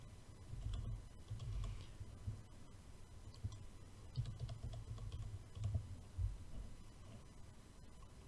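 Soft keystrokes on a computer keyboard as a username and password are entered, irregular bursts of clicks, quiet and close with no talking.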